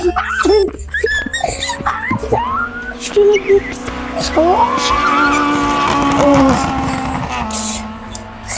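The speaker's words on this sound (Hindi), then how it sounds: "इसमें कार रेसिंग हो रही है। Car racing." Race cars roar and skid with squealing tires on a screen, engine tones rising and sweeping over several seconds, with a dog whimpering and other background noise mixed in.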